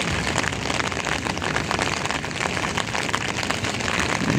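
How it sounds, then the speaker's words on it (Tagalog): Heavy rain pouring during a typhoon in Manila, a loud continuous dense hiss of water hitting surfaces with no pauses, steady and close. "Grabe, lakas ng ulan, oh."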